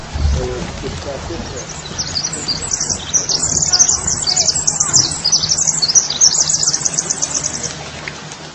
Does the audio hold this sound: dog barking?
no